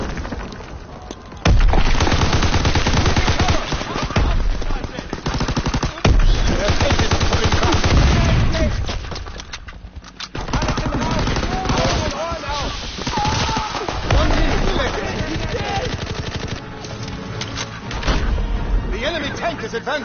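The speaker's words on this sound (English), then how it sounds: "They fire on the infantry by the tank." Sustained video-game gunfire and machine-gun bursts aimed at infantry beside a retreating tank in a PS4 war game, dense and loud throughout with booms mixed in and occasional voices under the din.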